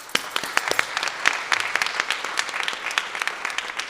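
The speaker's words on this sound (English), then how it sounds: "let's give everybody who is here to perform a round of applause" Audience applause welcoming performers at a college performing arts center event, loud and close, with sharp individual claps from a modest crowd, continuing steadily without speech.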